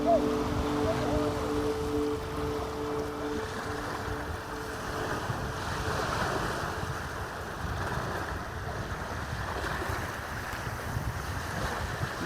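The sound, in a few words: sea waves breaking on the beach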